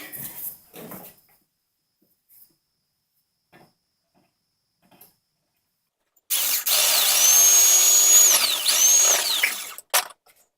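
After near silence with a few faint knocks, a power drill whirs loudly and steadily for a few seconds, its pitch dipping briefly, then stops.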